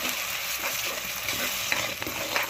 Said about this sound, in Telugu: మనం టమాటో ప్యూరీ చేసి పెట్టుకున్నాం కదా, అది వేసేస్తానండి